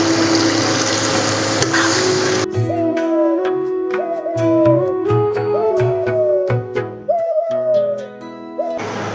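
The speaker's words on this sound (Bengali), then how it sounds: "এখন আমি উষ্ণ গরম জল এর মধ্যে দিয়ে দেবো।" Warm water poured into cooked masala that has released its oil, for a fish roe gravy: a loud, close hissing rush for about two seconds, then quieter pan sounds under sustained tonal background sounds.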